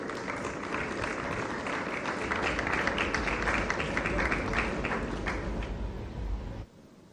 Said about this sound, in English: Please welcome her with a big round of applause.